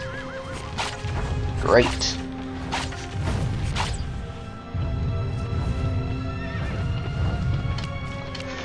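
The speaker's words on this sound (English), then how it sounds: "So now we're fighting a giant horse." A giant horse colossus in Shadow of the Colossus neighs shrilly and gallops with heavy, thudding hoofbeats that thump in a rolling rhythm, while a player talks briefly over the game sound.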